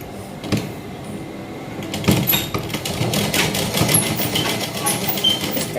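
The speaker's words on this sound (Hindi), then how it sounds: "और बस इसके किनारे पर सिलाई लगाना है।" A sewing machine stitches along the edge of a six-panel petticoat, running as a steady, close whirring rattle that picks up after an initial click while someone speaks over it.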